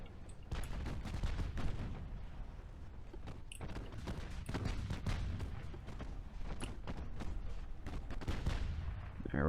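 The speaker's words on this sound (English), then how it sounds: "We're just going to keep pummeling them till they go under. All these 6-inch guns, man, are really impressive." Six-inch naval guns fire continuously in the naval warfare game Ultimate Admiral: Dreadnoughts, a dense barrage of booming shots at moderate distance with heavy rumble and overlapping blasts throughout.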